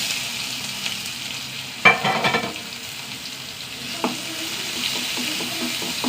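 Sliced onion and curry leaves with mustard seeds hitting hot oil in a pan, a steady hiss that jumps into a loud crackling burst as the ingredients go in, then settles into a lively sizzle.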